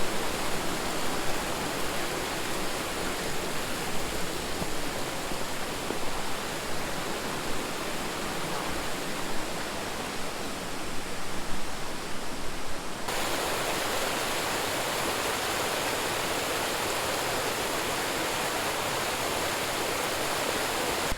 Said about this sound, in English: Definitely a lot of water going through here.